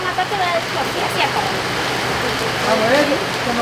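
Heavy rain pours down in a steady, dense hiss that persists throughout, with people talking over it.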